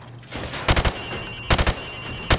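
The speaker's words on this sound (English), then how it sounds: "Now, shoot at the targets while firing from the hip." A rifle fired from the hip at downrange targets in Call of Duty: Modern Warfare Remastered, heard as three quick bursts of three sharp, loud shots each, close and with no talking.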